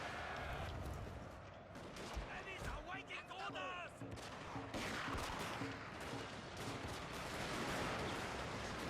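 Troops fire muskets and rifles in a Total War: Fall of the Samurai battle, a faint, continuous crackle of volleys under a steady battlefield din, with a voice talking over it.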